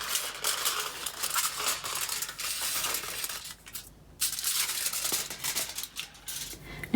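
Scissors cutting paper for an art collage give close, crisp snipping and rustling in quick irregular bursts, with one short quiet pause midway.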